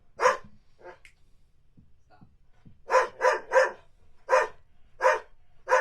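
A dog barks in short sharp bursts, a couple at first and then a fast run of six or so evenly spaced barks, loud and close, with quiet gaps between.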